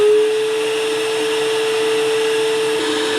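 A shop vac drives a variable speed forge blower with a loud, steady whine and constant hum of rushing air. It keeps an even pitch throughout, with no voices.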